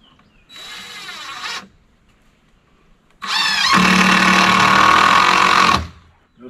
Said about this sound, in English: I'm also going to put a few lag bolts in this